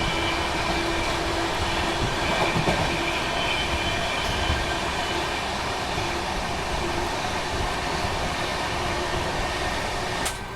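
Brahmaputra Mail passenger train rolling past on an Indian line, with a steady, loud continuous rumble of carriages throughout and no voices.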